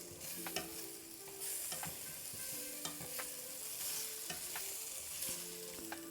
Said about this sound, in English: I guess I'll just mix it around, get them nice and coated with the seasonings